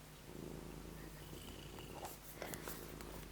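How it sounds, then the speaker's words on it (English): A cat purrs steadily and close up, a continuous low rumbling drone that fills the whole stretch with a few brief soft clicks near the end. "I wonder if you'll still be able to hear me beyond his purring."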